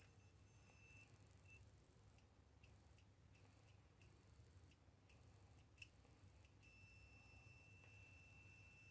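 A 1.2-12V active buzzer with a 120-ohm resistor gives a high, thin electronic whine continuously, then breaks into a string of irregular on-off beeps before settling back into a steady tone.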